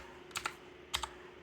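Password being typed on a computer keyboard at a device login prompt: two short pairs of sharp, close key clicks separated by a pause, over a faint steady hum.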